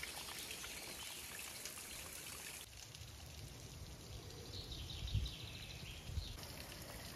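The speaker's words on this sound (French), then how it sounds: "Oh, j'ai jamais vu une cascade comme ça." The Thieux waterfall in the Doubs gorges pours and trickles in a steady, fairly faint wash of falling water, with a brief shift in tone partway through and no voices.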